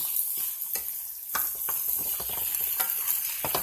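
Whole-leaf spinach and onions sizzle in a pan for a spinach and cheese quiche, with a steady close frying hiss and repeated stirring scrapes and taps.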